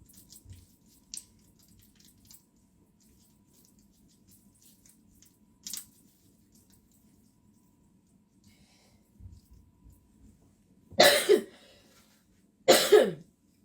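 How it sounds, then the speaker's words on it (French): Two sharp coughs sound near the end, close by, after a stretch of near silence with a few faint clicks and a soft hum. "Excusez-moi, j'ai une petite toux."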